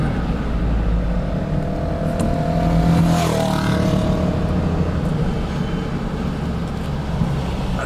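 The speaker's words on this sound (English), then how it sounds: "Some motorcycle riders out today too." Motorcycles pass on a road, heard from inside a moving Jeep Grand Cherokee as a loud whoosh that peaks mid-clip with a brief rising and falling engine note. Steady road and cabin rumble runs underneath throughout.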